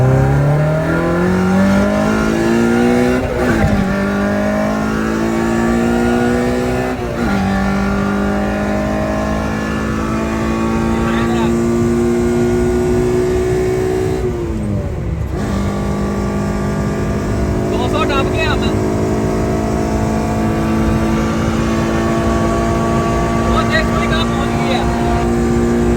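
K24-engined car accelerating hard through the gears on a top speed run, loud engine note climbing steadily with distinct pitch drops at each upshift, continuous throughout with some background voices.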